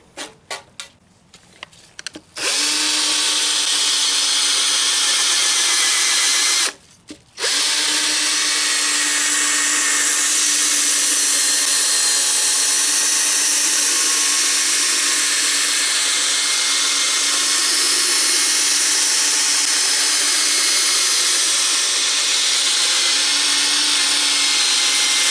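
A power drill spins sandpaper of 1500 grit against wet plastic headlights in a continuous loud, high whir that stops once briefly and then runs steadily to the end.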